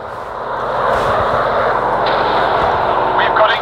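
WW1-era warplane engines drone steadily in the Warplanes Sky Aces game, a loud continuous propeller roar filling the scene with faint combat noise mixed in.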